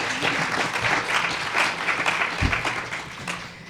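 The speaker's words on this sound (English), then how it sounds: "let's give a round of applause," Audience applause welcoming a panel at a human rights and climate justice event, a steady mid-level wash of clapping across the whole stretch with small swells and a louder burst near the middle.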